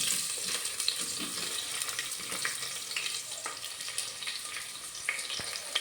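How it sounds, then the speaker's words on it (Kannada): Chopped onions frying in a pan for veg Hyderabadi biryani, a steady close sizzle with scattered sharp crackles and stirring clinks throughout, no talking. "ಈಗ ಈರುಳ್ಳಿ ಏನು ಕಟ್ ಮಾಡ್ಕೊಂಡಿದ್ದೆ ಅದನ್ನು ಹಾಕೋತಾ ಇದ್ದೀನಿ ಫ್ರೈಗೆ."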